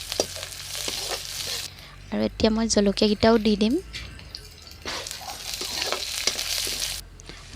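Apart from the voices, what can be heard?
onions and spices frying in a wok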